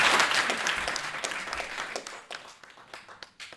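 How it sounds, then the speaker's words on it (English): A conference audience at an innovation festival applauds after a panel discussion, a dense burst of clapping that thins into scattered, fading claps. "Round of applause."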